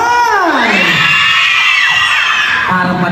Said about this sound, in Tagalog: Palakpakan may kasama sigawan para sa ating contestant number 3!